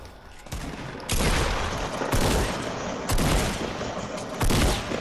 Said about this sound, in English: There's another guy shooting.